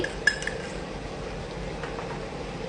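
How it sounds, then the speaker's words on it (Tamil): Mutton being stirred with spices and salt in a pot, a close spoon clink near the start followed by a soft, steady scraping and mixing texture at low volume. "இப்போ நல்லா கிளறுங்க."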